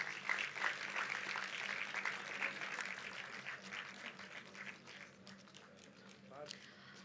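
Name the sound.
audience applause for Sports Society members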